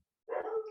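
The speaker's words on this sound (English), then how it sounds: "the dog might bark" A dog gives a single short, fairly faint bark that breaks out after a moment of quiet and trails off into a brief whine.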